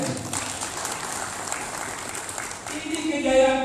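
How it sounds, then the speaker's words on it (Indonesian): Seminar attendees in Klaten, Central Java, clap in a steady, moderately loud round of applause for the president, with a voice over a loudspeaker rising as the clapping continues. "tepuk tangan pada Presiden"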